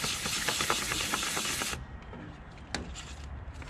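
Aluminum on an airboat is wet-sanded by hand with 400-grit sandpaper and WD-40, a loud, rapid, rhythmic scratchy rasping that stops abruptly partway through, followed by a single faint scrape and quiet.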